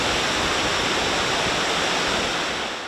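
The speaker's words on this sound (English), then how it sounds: "We're chasing waterfalls in the Custer National Forest" Waterfall in Custer National Forest, Montana, a loud, steady broadband roar of rushing water, continuous and close, easing slightly at the end.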